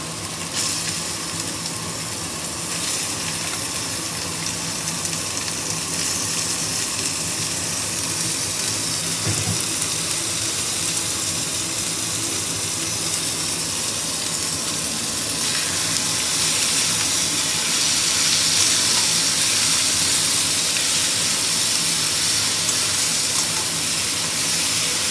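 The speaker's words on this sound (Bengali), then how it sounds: "মশলাটা ভাজা হয়ে গেছে। এবার আমি কিমাটা দিয়ে দেবো।" Chicken mince hitting a pan of fried spices and chopped garlic for momo filling, giving a steady, continuous sizzle and hiss that holds evenly throughout and brightens slightly toward the end.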